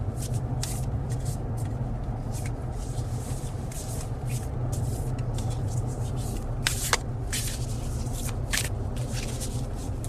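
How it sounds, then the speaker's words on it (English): Cards are shuffled nearby in soft intermittent riffles and snaps over a steady low hum, with a few sharper flicks toward the end. "Alright, I'm shuffling the cards."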